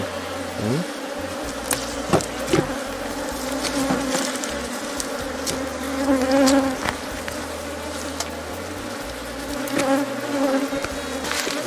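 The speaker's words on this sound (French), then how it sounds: "on ne va pas chercher à stresser nos abeilles" Honeybees swarm around an open beehive in Cameroon, their dense buzzing droning close and continuous with occasional louder passes near the microphone.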